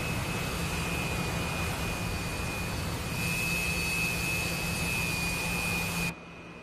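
Twin jet engines of a Su-27 fighter taxiing in a flight simulator roar steadily with a high whine, loud and continuous, then drop off sharply near the end.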